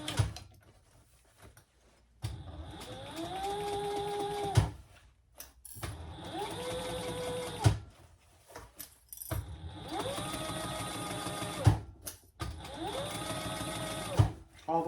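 A sewing machine sews a tote bag seam at a three-quarter-inch allowance in four separate close, rattling bursts of a few seconds each, with someone talking in the gaps between runs.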